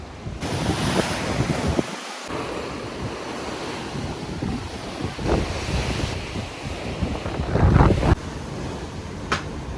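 Sea waves rolling and wind blowing at a seaside veranda in Odessa, a steady surf wash with gusty microphone wind noise and occasional louder swells, no voices.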